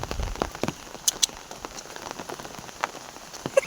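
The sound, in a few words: rain falling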